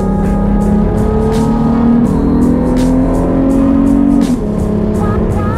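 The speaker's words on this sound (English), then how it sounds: "Hear that exhaust." A loud car exhaust rumbles and revs steadily up close at a dyno day, the engine pitch climbing and then dropping back.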